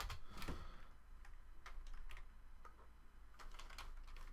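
Light, faint keystrokes on a computer keyboard while entering a math query, irregular taps spread across a few seconds over a quiet room hum.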